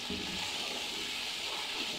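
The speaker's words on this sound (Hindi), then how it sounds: "पानी डालूंगी इसको निकल आने के लिए" Water poured into a pot of mutton mince pulao, a steady close hiss and splash that runs unbroken for the whole stretch.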